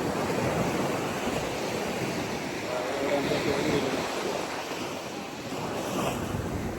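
Steady roar of surf washing in, continuous and fairly loud, with wind buffeting the microphone throughout.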